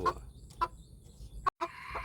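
A bantam chicken clucks in short, separate bursts, about four quick nasal clucks spread over two seconds, fairly close but quiet, with no talking.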